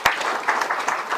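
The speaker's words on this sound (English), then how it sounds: "We can give him a round of applause." Crowd applause fills a short burst, a sharp clap at the start followed by steady, dense clapping from an audience at a gathering, moderately loud throughout.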